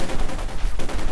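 Dense, continuous machine gun fire in Company of Heroes 2, an MG team shooting from inside a house, with rapid overlapping bursts filling the short moment, loud and close.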